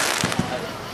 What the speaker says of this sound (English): That's a lot of fireworks.